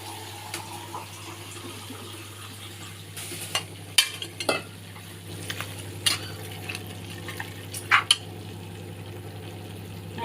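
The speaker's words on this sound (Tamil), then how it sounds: "அதுவும் கடைசியாக கொத்தமல்லி தரையும் போட்டு நல்லா வணக்கணும்." Chicken with chopped coriander sautéing in a pan for a fried chicken curry, a steady low sizzle with scattered spatula scrapes and clinks as it is stirred, close and fairly loud throughout.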